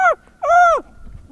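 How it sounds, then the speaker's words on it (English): A bird calls on a hillside hike with two loud, harsh, nasal caws in quick succession, crow-like, close and clear with faint outdoor noise between them. "It sounds like a crow."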